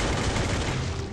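Rapid gunfire in the Free Fire zombie mode, a dense, steady volley of shots aimed at zombies indoors, fairly loud and continuous through the brief moment.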